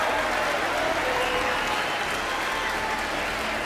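Audience in a large hall cheering and applauding, a loud continuous wash of many hands clapping together with faint crowd voices, no speech on top.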